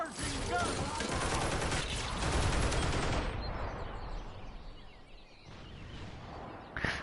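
Gunfire in the toy-soldier combat game Toy Soldiers: War Chest: dense, rapid bursts of shots pile up loudly for about three seconds, then thin into scattered distant firing and a final sharp crack.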